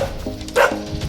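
A single dog bark rings out over a steady outdoor background, with a fainter yip or bark around it.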